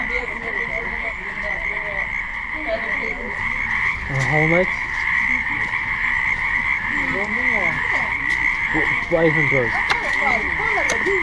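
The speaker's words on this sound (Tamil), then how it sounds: "அது தவளை பார்த்தீங்கன்னா சவளை இது சாக்கு போட்டு கட்டி வச்சுருக்காங்க" Frogs tied up in sacks at a Nagaland meat market croak in repeated rising pulses, close and fairly loud over a steady insect-like drone and market bustle, with a brief voice.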